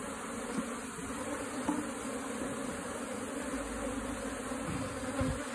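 Honeybees buzz in a dense, steady drone inside a hive box during a rescue of a colony from a tree trunk, heard close but at low volume with no talk.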